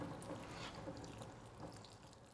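Nutrient water poured into a pot while repotting anthurium plants, a steady close liquid trickle and splash running throughout without pause.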